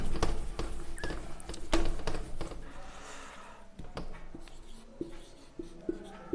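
A teacher writes on a board during a maths class, making a run of sharp tapping and scratching strokes, dense at first and then sparser, close and clear with no speech.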